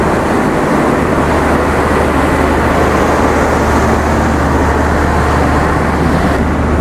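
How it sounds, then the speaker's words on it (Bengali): A generator in the power car of the Kapotaksha Express intercity broad-gauge train drones loudly and continuously, a close, even mechanical roar with a low hum that never varies in level. "এই যে এটা হচ্ছে আমাদের আন্তনগর কপোতাক্ষ এক্সপ্রেস ট্রেনের পাওয়ার কার।"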